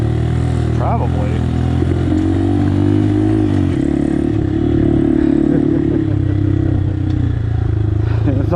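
A Honda Monkey motorcycle rides along with its small engine droning steadily and shifting pitch, loud and close, with some clatter and scraping over rough ground; a voice speaks over the engine noise.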